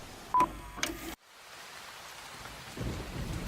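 Rain falling in the Fallout 76 video game's Appalachia setting, a steady hiss of rainfall with a short electronic beep and a brief burst early on, then an abrupt drop before the rain swells back, with low rumbling later.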